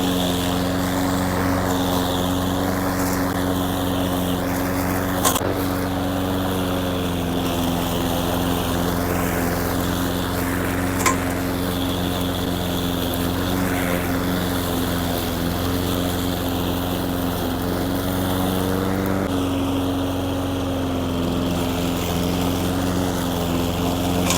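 A Husqvarna 353AWD lawn mower drones steadily at close range, a constant buzzing engine note with slight rises and dips as it works, and a couple of brief clicks along the way.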